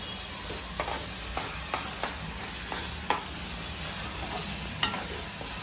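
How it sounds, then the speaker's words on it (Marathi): Onions sautéing in a pan for Malvani kaleji masala, a steady soft sizzle with occasional sharp clicks of a spatula stirring against the metal, close and continuous with no talking. "थोडासा लाल होईपर्यंत तो परतत राहायचा"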